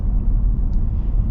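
Deep, steady engine rumble from a 2026 Ford F-150 Tremor with a 5.0L Coyote V8, loud and continuous with a low throaty drone throughout.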